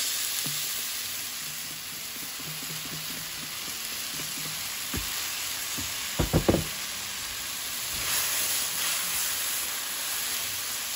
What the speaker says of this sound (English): Now I'm going to add in my tomato paste.